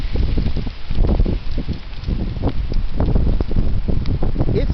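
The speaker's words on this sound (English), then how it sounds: "It's getting windy out here." Heavy wind blows hard and steadily outdoors, roaring loud and close with constant gusty buffeting and rumbling against the microphone, alone without talk.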